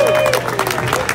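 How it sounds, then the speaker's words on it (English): An audience at a New York Comic Con gaming tournament keeps clapping, a short burst of applause heard under someone speaking loudly over it. "You can keep clapping."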